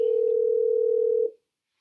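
A steady telephone dial tone hums alone at moderate level for just over a second, then cuts off abruptly as a call is placed.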